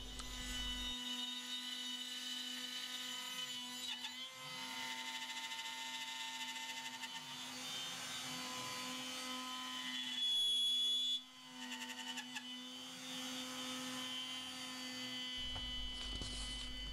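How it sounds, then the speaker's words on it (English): A CNC wood turning machine carves the round body of a wooden teapot, giving a steady machine hum with a constant drone and shifting cutting noise throughout, briefly louder near the end, with no talking. "You can see the circular body of the teapot machining."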